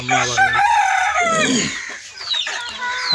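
A flock of farm chickens gathers to be fed. Loud, close clucking and squawking overlap throughout, with a rooster's drawn-out crow rising in the middle.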